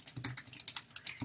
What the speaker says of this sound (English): you type in the name of the website